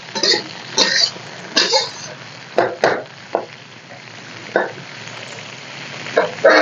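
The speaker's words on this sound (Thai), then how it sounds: "ผัดไปนะคะให้หอมๆ" Vegetables are stir-fried in a pan: spatula scrapes and tosses come in short bursts over a soft, steady sizzle.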